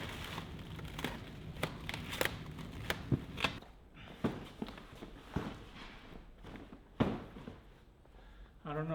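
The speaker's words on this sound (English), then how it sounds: "Oh, I need to cut the wrap." Plastic wrap being cut and handled in a warehouse while packing an order: crinkly rustles and sharp snapping clicks in an irregular run, quieter later, with a brief voice at the end.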